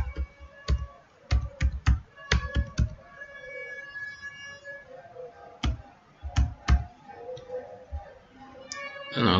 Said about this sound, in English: Then I'm going to type my website